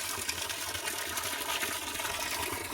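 Water pours steadily from a 1.25-inch hose pipe in a coconut and areca nut grove, a constant rushing gush with no talk over it.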